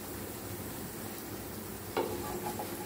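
Chapati cooking with oil on a hot pan, a soft steady sizzle close by with a brief scrape or turn partway through.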